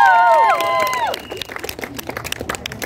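Guests being honoured at the presentation for the KCC Women's T20 National Championship cricket final draw a burst of crowd applause. A voice runs at the start, then scattered clapping continues at moderate level.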